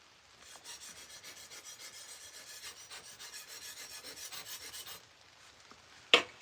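A sword blade being sharpened with steady, rhythmic rasping strokes for about five seconds, close and fairly quiet, ending in a brief sharp scrape.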